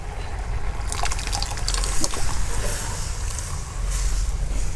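Cooked cucumber curry poured into a pot of boiled lentils, a loud, steady liquid splashing and trickling close up, with faint talk.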